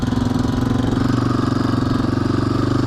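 A dirt bike engine running steadily with a fast, even pulsing chug and buzzy rasp, loud and close, with no talk over it.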